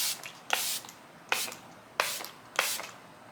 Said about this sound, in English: I love this setting spray.